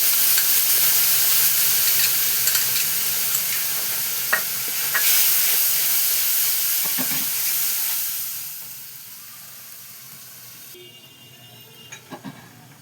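Tomato, green chilli and ginger paste sizzles and hisses loudly in a hot pan, a steady close frying crackle with occasional stirring scrapes that fades toward the end.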